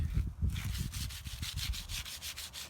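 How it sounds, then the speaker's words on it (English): Someone hand-sands a wooden Moto-Lita steering wheel with fine sandpaper in quick, steady back-and-forth strokes. The rubbing hiss is soft and close, with no voices. "Just going to rub down the area where your hands will sit."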